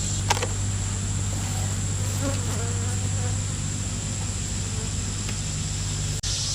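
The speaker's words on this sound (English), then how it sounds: "These bees are not happy." A dense, steady drone of many agitated honey bees buzzing close around a hive in hot weather, loud and continuous with no pauses.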